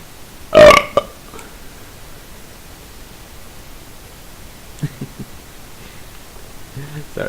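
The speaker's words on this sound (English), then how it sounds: "Sorry, I had to burp in game, just for the sake of being annoying." A character burps once in the Arma 3 video game, a loud, brief belch near the start over low static hiss, followed by faint clicks and rustling.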